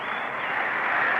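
Crowd of Cubs fans at Wrigley Field in Chicago applauding and cheering during a Mets baseball game, a dense, steady wash of clapping heard from a distance.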